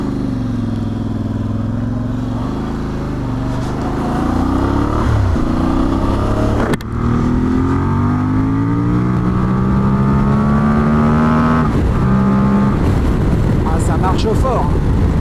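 A 2026 Voge 800 Rally adventure motorcycle accelerates hard, its engine note climbing through repeated rising revs and gear changes, loud and close with wind rush behind it.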